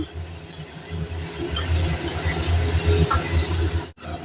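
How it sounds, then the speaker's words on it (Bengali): Pointed gourd (potol) stirred with spices in a hot pan, a steady close sizzle with scraping and light clinks from the spatula throughout, briefly cut off near the end; no talking. "এবার আমরা পটলগুলোকে দিয়ে দিলাম পটলগুলো দিয়ে একটু ভালো করে নাড়াচাড়া করে নেব"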